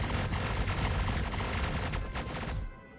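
PDC turrets firing in Star Citizen: loud, continuous rapid machine-gun fire with rattling bursts that runs for most of the clip, then cuts off into near quiet at the end.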